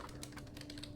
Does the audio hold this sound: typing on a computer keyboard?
yes